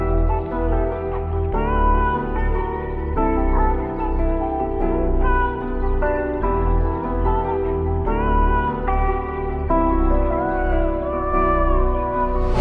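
Melodic beat sample built in FL Studio from piano chords over deep 808 sub bass following the root notes, a looping pattern with steady chord changes every couple of seconds, full and continuous with no voices.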